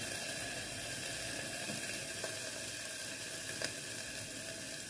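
Food heats gently in a pan, a soft, steady sizzle hissing evenly throughout at low volume, with a couple of faint clicks and no voices.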